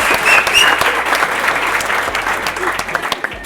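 Wedding guests break into loud applause at a reception, a full burst of many clapping hands close by that slowly tapers off, with a few voices underneath.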